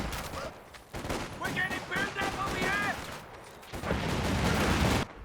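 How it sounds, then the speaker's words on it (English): Gunfire crackles in a Company of Heroes 2 battle, with scattered shots and bursts of small-arms fire and a louder volley near the end, mixed with in-game voices and battle noise. "Sniper picking shots"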